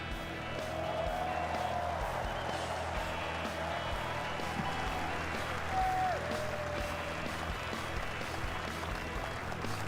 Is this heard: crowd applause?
yes